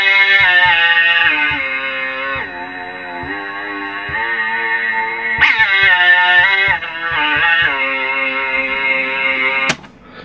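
A homemade Mellotron-style keyboard plays tones from cassette tape, a sustained harmonic drone shifting pitch through a slow melodic line with no attack shaping, steady and close, with a few abrupt note changes and a sharp click near the end.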